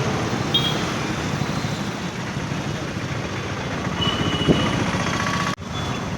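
An auto rickshaw pulling away and driving through traffic on a cool, lightly rainy day in Hyderabad, a dense continuous road rumble and engine drone with passing vehicle noise, fairly loud and steady with a brief dip near the end.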